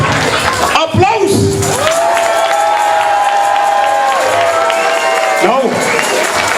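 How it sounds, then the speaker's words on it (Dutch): Audience at a children's song contest, the Mini leedjesconcours in Oirsbeek, claps steadily and loudly, with shouts and drawn-out cheering calls above the crowd noise. "Geef ze daarvoor een Oostbeeks applaus."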